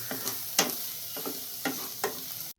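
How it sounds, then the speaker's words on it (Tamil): Onion, tomato and red chilli powder sauté for chana masala, a steady close sizzle broken by several loud scraping stirs of a spatula through the pan, with no talking. "ரெண்டு ரெட் சில்லி பவுடர் போட்டுக்கிறேன் நல்லா வதங்கணும்"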